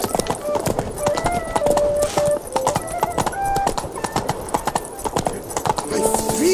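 Horse hooves clip-clop steadily on the ground in The Witcher 3 video game, a rapid, even rhythm close by, running under speech, game music and a brief whinny.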